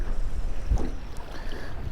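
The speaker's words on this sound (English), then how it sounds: "Wind was blowing a little bit too hard for the old tube." Wind buffets the microphone on a fishing boat out on the water, a steady low rumbling rush lasting the whole moment with no clear talk.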